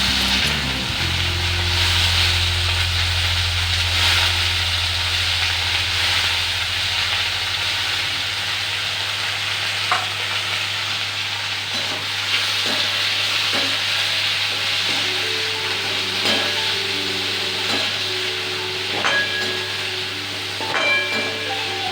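Long-cut sliced potatoes fry in hot oil with curry leaves, giving a loud, steady sizzle that runs the whole way through, broken by occasional light clinks and scrapes of stirring.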